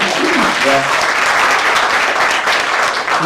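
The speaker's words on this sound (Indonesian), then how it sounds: "boleh dong kasih tepuk tangan" Audience applause at a speaking event, dense and steady clapping from a crowd lasting the whole stretch, loud and close, with a brief voice at the start.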